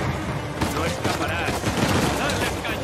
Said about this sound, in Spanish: tener que estar esquivando los disparos